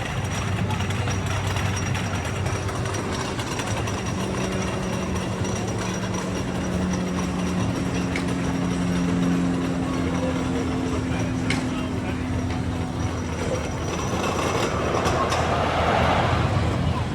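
Steady rumble and clatter of the Ravine Flyer 3 roller coaster at Waldameer amusement park, continuous and moderately loud with rolling train wheels, faint voices in the background.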